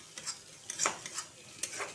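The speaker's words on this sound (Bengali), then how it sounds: "মশলাটা ভালো করে ভাজা হোক," Spice paste frying in a pan for an egg curry, stirred in quick scraping strokes that come in short bursts over a soft sizzle, heard up close.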